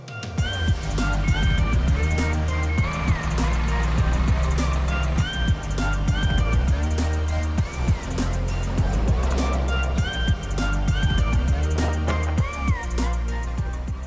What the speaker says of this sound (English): I think I hear a truck outside